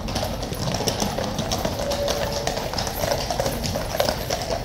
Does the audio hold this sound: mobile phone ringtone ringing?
no